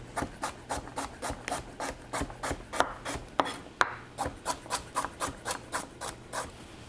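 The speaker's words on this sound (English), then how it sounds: "I'm just going to chop up some celery and carrots" Celery and carrots being chopped on a board give a quick, regular run of soft, close knife taps with a slight scraping edge, steady throughout and without any voices.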